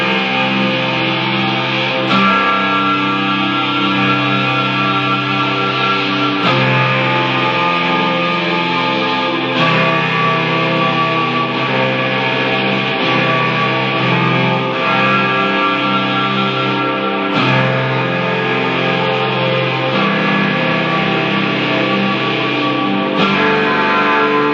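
Sustained synthesizer tones from a Boss SY-200 pedal with a heavy effects wash and reverb tail, playing a steady melodic line with no voices.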